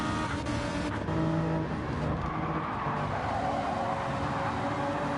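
Race cars including a Porsche roaring past on the Le Mans circuit in an ERL sprint championship game, a loud continuous engine drone with a brief tire squeal, no talk.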